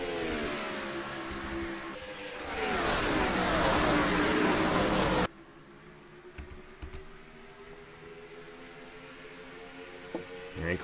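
Video game race truck engines roar at Rockingham Speedway, a loud sustained drone that swells, then cuts to a quieter, steady engine hum with small bumps.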